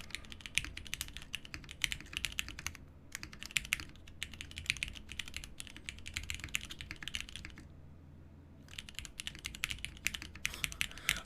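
Rapid keystrokes rattle off a custom mechanical keyboard in a typing test, arriving in bursts of clacks broken by short silences near three and eight seconds, close-miked and without speech.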